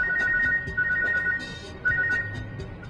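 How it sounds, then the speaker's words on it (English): A phone rings inside a moving car, a repeating electronic tone trilling in short bursts over low road and engine rumble, with no one speaking. "I got a phone call from Seth Green."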